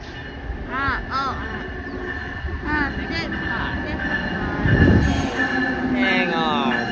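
An Amtrak Northeast Regional train passes New Carrollton station, its long coaches rumbling by close and loud with rolling wheel noise and high metallic squeals, while a voice speaks over it.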